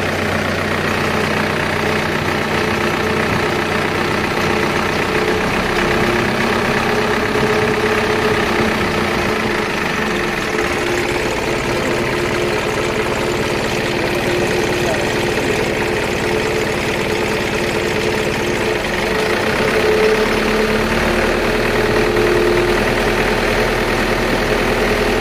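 A Mitsubishi Colt Diesel "umplung" truck engine runs steadily with a low, knocking diesel drone, rising slightly as it is revved near the end; close and continuous, with no talking.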